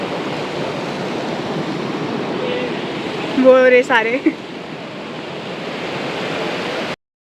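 River water rushes steadily behind a rock in Barot Valley, a dense, even roar that lasts the whole clip. A voice speaks briefly near the middle.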